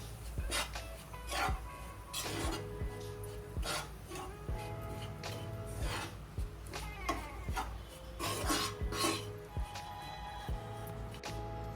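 Gram flour roasting in a pan with garlic for a stuffed kantola curry, stirred with steady, repeated scraping and rubbing strokes that are soft and close, with no voices.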